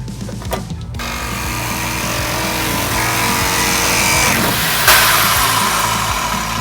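A power tool cuts through the body of a Hyundai during a convertible conversion, a loud, continuous grinding, rattling buzz with a sharp burst near the end as the last section gives way.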